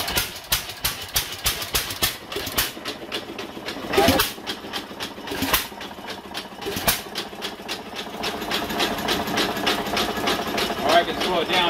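A New Holland hit and miss engine runs nearby, with irregular thumping firing strokes and mechanical clatter under a steady running hum, and someone talks over it.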